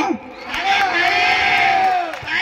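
A college auditorium crowd at a science college in Kendrapara cheers and whoops in a sustained, loud wash of voices, with rhythmic claps poking through the shouting.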